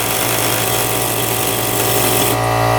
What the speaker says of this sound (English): Another tool in the arsenal is a Dremel here.